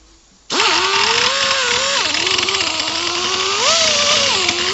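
A power tool bores into a hard metal clutch pedal that has been removed from its pedal assembly. The motor kicks on abruptly and holds a loud, close whine, with the pitch dipping and rising as the bit bites the material.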